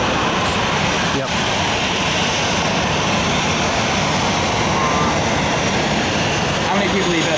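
Aircraft roaring past while plane spotting at Atlanta airport, a steady loud broadband engine rumble sustained throughout, with people talking over it.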